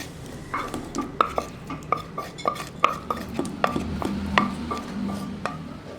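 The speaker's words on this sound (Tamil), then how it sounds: "இப்போ நம்ம வதக்கி வச்சுருக்கிற வெங்காயத்தை இதில் போட்டுக்கலாம்" Sautéed onions being stirred into soaked rava dosa batter in a bowl, a rapid series of close clinks and scrapes of a spoon against the vessel, irregular and crisp.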